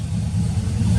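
A truck engine runs steadily at close range, a dense low rumble holding throughout with a slight rising rev toward the end, parked in the rain near a prison.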